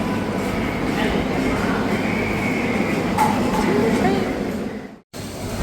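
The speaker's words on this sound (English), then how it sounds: "And now we're gonna take the train." Steady rumbling interior of a moving train ride in Penang, Malaysia, a continuous close hum and rattle throughout, with faint voices in the background and a brief dropout near the end.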